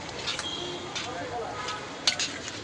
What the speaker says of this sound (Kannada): ನೋಡಿ ಗೈಸ್ ಮಿಕ್ಸಿಂಗ್ ಮಾಡ್ತಾ ಇದ್ದೀವಿ.